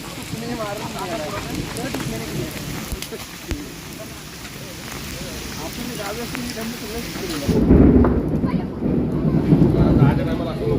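Steady rain falls during a village thunderstorm while people talk throughout, then a loud low rumble of thunder rolls in near the end and swells under the rain.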